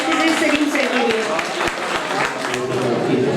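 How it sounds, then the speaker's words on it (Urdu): Audience at an Urdu poetry recitation applauds a poet, a steady wash of clapping running for several seconds with crowd noise and a voice speaking over it. "آپ بھرپور تالیاں بجائیے"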